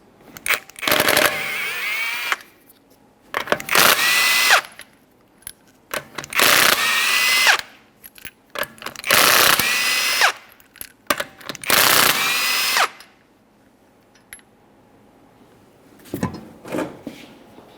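A power tool removes five 21mm lug nuts from a front wheel of a 2011-2020 Toyota Sienna. It sounds as five loud, separate mechanical bursts of a second or two each with pauses between, then a short faint rattle near the end.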